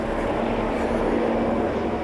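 A helicopter flying toward Skerryvore lighthouse in winds over 80 km/h gives a steady, loud, continuous rotor and engine roar with a droning hum throughout.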